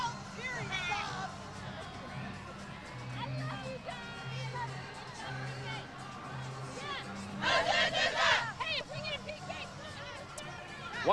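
Crowd at an international women's soccer friendly between the USA and Mexico, a broad murmur of spectators with a brief swell of cheering, under commentators talking.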